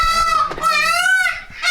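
Farm ducks give a couple of loud, nasal, drawn-out honks close by on a summer farm.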